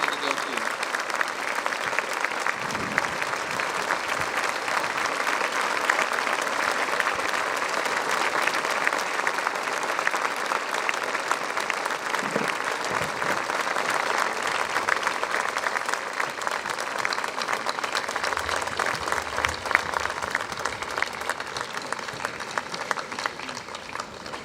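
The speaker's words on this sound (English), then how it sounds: "Continue to give him a round of applause" A large crowd at a D-Day 75th anniversary ceremony at the Omaha Beach American Cemetery claps steadily and at length, a dense sustained applause with a few faint voices beneath it.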